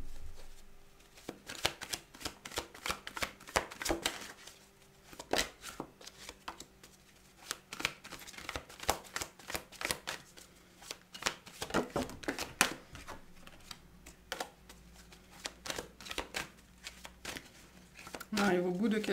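Tarot cards shuffled by hand for a weekly reading, a long run of crisp riffling and flicking bursts in steady repeated rhythm, close to the microphone, with a low hum beneath.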